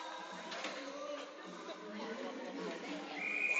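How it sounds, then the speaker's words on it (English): A referee's whistle blows at a peewee youth ice hockey game, a short sharp tone near the end over a commentator's ongoing talk and faint rink ambience. "We have a whistle."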